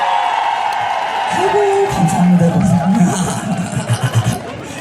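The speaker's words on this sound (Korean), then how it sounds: "박수 한 번만 주시겠어요?" A crowd at a high school alumni reunion concert in Gyeongsan, Korea applauds and cheers: a steady wash of clapping mixed with whoops and shouting voices, building in the middle and fading into scattered claps.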